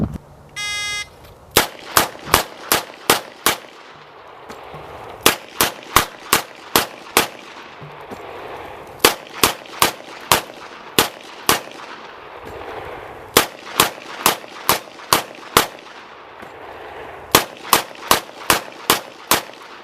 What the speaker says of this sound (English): he fired 30 rounds from a 6-shot revolver, simply discarding it as it emptied and retrieving another